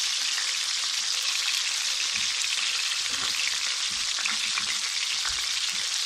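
Gola kabab fries in a pan over a slow flame with a dense, constant sizzle and crackle, bright and close, with faint irregular spatters and no voices.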